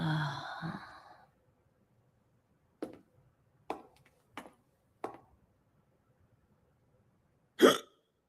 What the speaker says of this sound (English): the hiccup of doom.